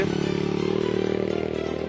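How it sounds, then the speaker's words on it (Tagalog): A motorcycle rolls past on a newly cleared mountain road, its steady engine drone close and continuous with a faint rattling clatter throughout and no talk over it. "May gagi ang motor."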